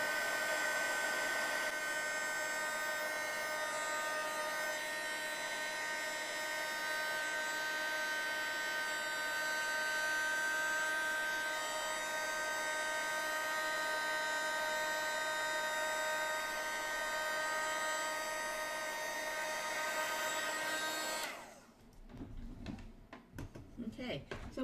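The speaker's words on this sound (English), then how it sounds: "go ahead and take your heat tool and let it heat up" A heat embossing tool on setting 2 blows a steady, loud whirring hiss while melting black embossing powder, continuing for about twenty seconds before it switches off, followed by clatter and rustling.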